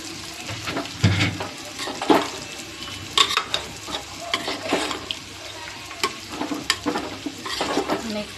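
A spoon stirs a paneer biryani mixture with curd in a pan over a low flame, giving irregular scraping and wet squelching strokes against a soft background sizzle.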